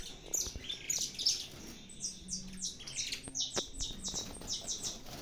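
Saffron finches chirp and squabble in a breeding aviary, giving bright, rapid, repeated calls in clustered bursts at moderate distance over low background noise.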